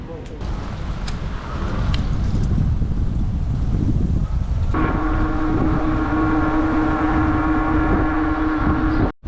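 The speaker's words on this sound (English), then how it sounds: "The fact that the wind is being this aggressive makes me a little bit concerned." Strong wind blowing outdoors on a road journey in Bulgaria: a loud, steady, broadband roar of gusts buffeting the microphone, joined halfway through by a sustained tonal hum as if from a moving vehicle.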